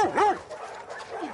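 A single near bark from a dog in The Last of Us Part II, a short sharp yip rising and falling, then trailing into softer whimpering tones over a quiet background.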